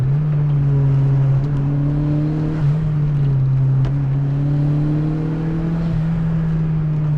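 A turbocharged Mazda MX-5 NA driven through a series of bends, its engine a steady, loud in-cabin hum that swells and eases slightly with throttle changes, with no one talking.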